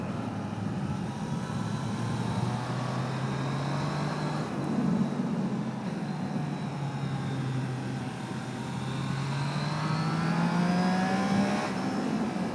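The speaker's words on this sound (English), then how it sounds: "there's loads of traffic here." Riding a Triumph Trident 660 motorcycle through heavy road traffic: a steady engine drone with wind noise, revs rising and easing as other vehicles pass close by, with no talking.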